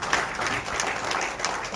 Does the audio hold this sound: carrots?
no